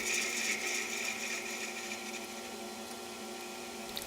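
A wood lathe spins a chisel handle blank, giving a steady motor hum with a high whine that softens slightly as the cut continues, fairly quiet and close.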